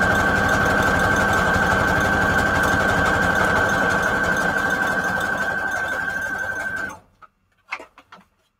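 Sewing machine stitching a zigzag across junk journal pages, a steady close whirring hum with a constant tone that runs for about seven seconds, then stops abruptly, leaving a few faint clicks.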